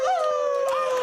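A man imitates a wolf howl with his voice, a single short wavering tone that rises and falls, close and clear, on a British TV show.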